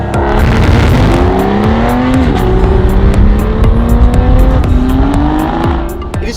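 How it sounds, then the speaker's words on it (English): A 2017 Aston Martin Rapide S is driven at full throttle, its engine roaring loud and close with steady rising and falling pitch as it pulls, heard from inside over constant road noise. "all you do is you put your foot to the floor and you get that noise,"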